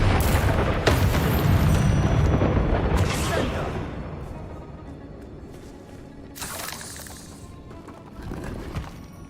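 Spell blasts from Flipendo being cast in Hogwarts Legacy, a loud booming burst at the start followed by a few more broadband whooshing impacts spaced through the clip, with game noise beneath.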